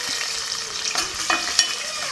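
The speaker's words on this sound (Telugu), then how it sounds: "వీటిని మాత్రం మంచిగా వేయించుతా, బాగా మెల్ట్ అయ్యేదాకా వేయించుకుందాము." Whole spices, green chillies and onion frying in oil in a pan for chicken curry, a steady close sizzle with faint stirring scrapes and no voices.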